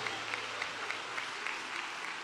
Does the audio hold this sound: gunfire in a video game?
no